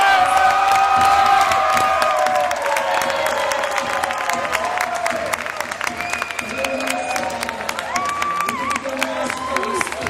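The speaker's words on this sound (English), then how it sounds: "Give him a big round of applause" Loud audience applause mixed with cheering, whoops and high shouts at a male beauty pageant in Cape Town, continuous and energetic throughout, with tonal shrieks rising above the clapping.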